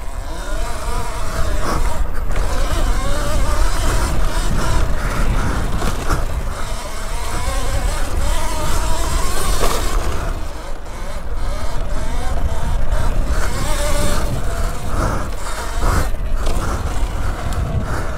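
A Talaria Sting electric motocross bike rides a dirt crossradat track in Hämeenlinna, giving a steady, loud electric whine with wind and rolling noise that rises and dips throughout, with no talking.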